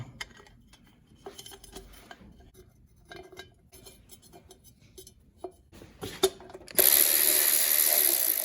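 Bolts are ratcheted snug, a little at a time, on a Briggs and Stratton engine being repaired for white smoke. Scattered close ratchet clicks and metallic taps come in short bursts, ending in a loud steady hiss.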